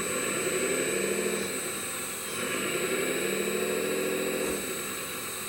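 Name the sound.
RC wheel loader engine running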